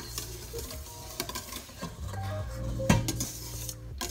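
Butter is slowly stirred into hollandaise sauce in a pot, giving soft scraping and light clinks of utensil against metal, with a faint hum underneath and no talking.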